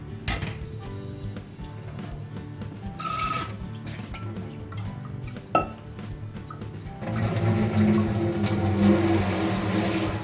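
Salted aubergine slices rinsed under a running kitchen tap, with water splashing and clattering against the dish and sink, intermittent at first and then a steady, louder flow.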